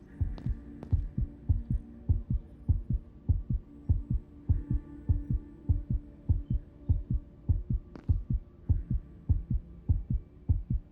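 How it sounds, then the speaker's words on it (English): Rapid, steady heartbeat thumps from the Dread X Collection horror game, roughly two beats per second, loud and even throughout, over a low hum with no talking. "Why is my heart beating so fast?"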